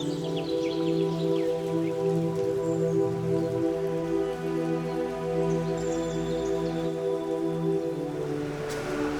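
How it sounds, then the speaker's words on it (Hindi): Rain falls steadily in the Drosh valley in Pakistan, a continuous soft patter with a sustained low drone beneath it and no voices. "और रात को बारिश शुरू हुई है, अभी तक बारिश हो रही है।"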